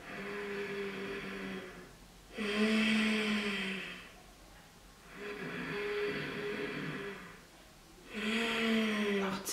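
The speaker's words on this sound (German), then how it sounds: "Und jetzt atmest du das gleiche Ujjayi-Atmen, also dieses bisschen enge, gepresste," Slow Ujjayi yoga breathing, narrow and pressed through the nose, comes as three long hissing breath cycles with quiet pauses between, close and fairly soft.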